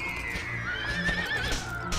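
A horse in a video game gives a long, loud whinny with a rising, wavering pitch, accompanied by faint hoof clops.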